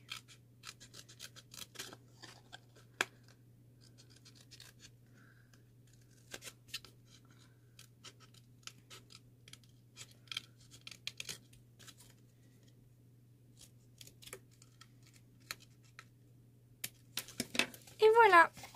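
Scissors snip through paper to cut small hearts for a handmade mini album: sparse, quiet clicks over a steady low hum, ending in a brief closer flurry of cutting.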